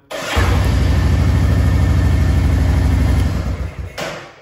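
A Royal Enfield Classic 350 motorcycle in first gear fires up with the clutch lever pulled in, settling straight into a loud, steady thumping single-cylinder idle that runs for several seconds before briefly cutting out and picking up again.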